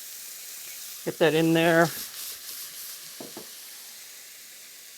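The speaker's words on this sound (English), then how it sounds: "So now I'm going to put in some red onion." Red onion sizzles in a hot pan as it sautés, a soft steady hiss after a short spoken remark, with faint clinks of stirring.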